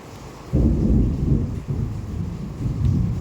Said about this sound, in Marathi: आज गडगडते, काय खरं नाही.